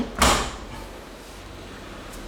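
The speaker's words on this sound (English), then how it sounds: "close the door," The door of an LG 8 kg inverter washing machine shuts with a single close, sharp thud followed by a quiet room.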